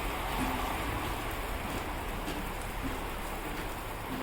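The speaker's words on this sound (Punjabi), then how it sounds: "ਫਿਰ ਮੀਂਹ ਹੋ ਗਿਆ ਤੇਜ਼" Dense, steady roar of heavy rain pouring down, a continuous wash of noise with no voices.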